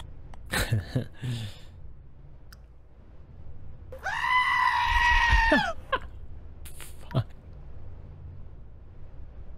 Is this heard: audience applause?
no